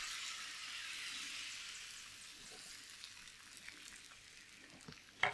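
Pancake batter sizzles in a 24 cm frying pan, a soft, steady frying hiss running the whole time with a faint clink near the end.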